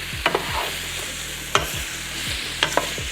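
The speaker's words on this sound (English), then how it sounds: "I'm gonna go ahead and add my zucchini" Zucchini cooks with garlic in a hot pan, giving a steady close sizzle and frying hiss broken by a few sharp scrapes and clacks of stirring.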